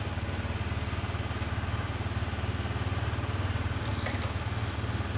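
Honda Vario 125 scooter with a boiling radiator idling at a set low RPM, a steady, even, pulsing engine drone close by, with a short higher rattle partway through.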